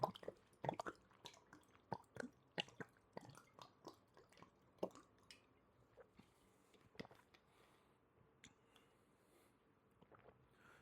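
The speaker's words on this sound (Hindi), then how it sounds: "पतला मुंह है बोतल का, बहुत आवाज करती है पानी" Water drunk from a narrow-mouthed bottle produces a quick series of gulping, glugging pops close to the microphone, fairly faint and irregular, thinning out toward the end.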